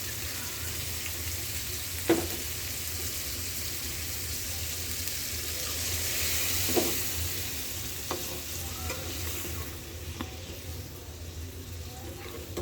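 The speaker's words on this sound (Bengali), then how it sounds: "আমি তেলের মধ্যে ভাজা ভাজা করে নামিয়ে নেব" Steady, close sizzling of tripe frying in hot oil, with a few brief stirring scrapes breaking through the hiss.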